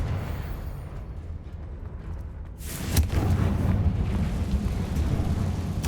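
In the Hogwarts Legacy video game, a Confringo fire spell goes off with a sudden loud blast about halfway through, followed by a sustained rumbling roar after a quieter stretch, with no voices.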